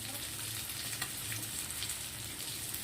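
Pieces of katla fish fry on a flat tava with spiced masala, giving a steady, close hiss of sizzling oil with a few soft clicks and crackles, and no voices.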